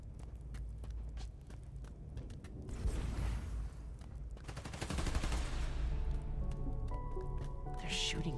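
Gunfire and mechanical clatter in the Spider-Man Miles Morales video game, with bursts of rapid shots building midway and a steady dense rattle of fire running over a low rumble to the end.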